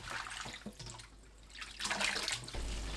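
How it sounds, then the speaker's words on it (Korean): Water splashes and runs as oyster mushrooms and water parsley are rinsed in cold water, with soft sloshing that builds into a brighter rushing burst near the end. "찬물에 바로 헹궈내세요."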